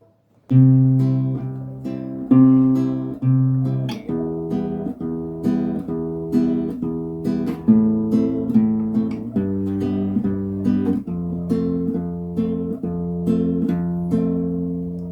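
Fingerpicked acoustic guitar moving through a chord progression in an even rhythm, each plucked note decaying quickly, close and alone without talking.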